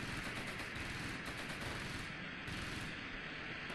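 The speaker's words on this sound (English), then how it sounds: "We're getting shot at." Gunfire in the Close Combat video game during a 1944 Normandy battle near Caen, a dense continuous crackle of distant small-arms and machine-gun fire, faint and unbroken.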